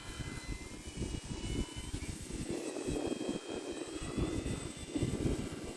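An Arrows Husky RC model airplane makes a slow pass overhead, its electric motor droning steadily at moderate distance with a rising and falling whine, heard alone without talk.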